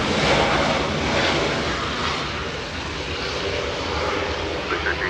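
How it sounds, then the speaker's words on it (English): A SkyWest Embraer E175 regional jet inbound from Denver touches down, a steady loud broadband engine roar holding close for the whole stretch and easing slightly midway. "the little SkyWest Embraer E175 touching down as we speak"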